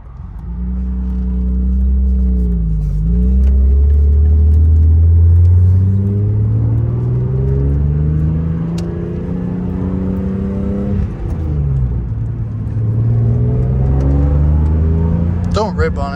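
A lowered BMW E36 without a MAF sensor revs up and down loudly and up close in a deep, rumbling sweep that stumbles unevenly, with voices talking over it.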